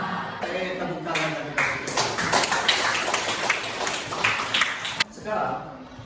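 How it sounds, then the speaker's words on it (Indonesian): Students in a classroom clapping after singing a national song: a dense burst of hand claps lasting several seconds, fairly close, then fading out. "Tepuk tangan."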